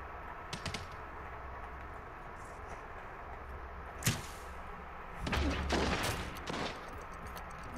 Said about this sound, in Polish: O, słyszę pierwsze strzały.